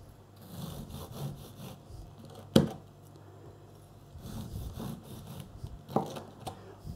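A knife saws back and forth through crusty barley-flour bread for Cretan rusks, giving soft rhythmic rasping strokes with a couple of sharper crunches as the crust breaks, close and quiet without speech.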